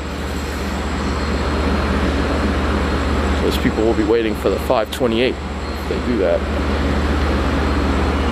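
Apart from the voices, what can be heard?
Long Island Rail Road train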